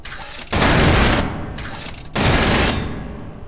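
Assault rifle fired in Space Engineers on a shooting range with popup targets: two loud sustained bursts of rapid automatic fire, the first about a second long and the second following after a short pause, close and unaccompanied.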